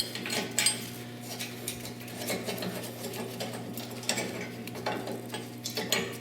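Metal bumper brackets and bolt clips come off a Nissan Frontier, producing light clinks, scrapes and rattling clatter of metal parts handled at close range, steady with small bursts, with no talk.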